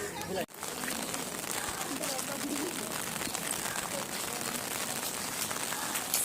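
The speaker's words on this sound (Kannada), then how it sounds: "ಫುಲ್ ಮಳೆ ಬರ್ತದೆ." Heavy monsoon-style rain pattering steadily and densely on surfaces at Murudeshwar, coastal Karnataka, an even hiss with a brief dip near the start.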